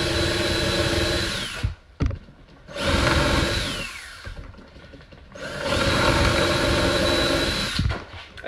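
A power drill drives screws into the legs of a craft table in three loud, close whirring bursts with short pauses between them, each one slowing as the screw seats.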